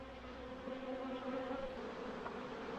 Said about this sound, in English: the bees are flying today